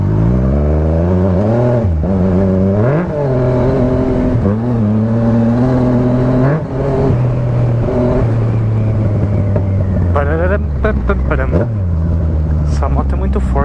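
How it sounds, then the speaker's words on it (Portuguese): Engine of a powerful motorcycle in a video game revving loudly and continuously, pitch sweeping up and down through several throttle pulls, steady and close throughout with someone talking over it. "Essa moto é muito forte, velho."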